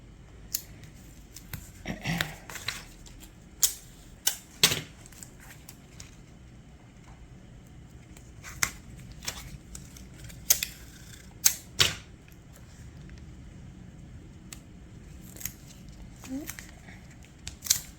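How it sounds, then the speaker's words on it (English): Double stick tape pulled and pressed along the edges of a composition book, sharp intermittent peeling rips, snips and taps scattered irregularly over a quiet background, close. "I'm going to use the double stick tape on the edges here to seal those up"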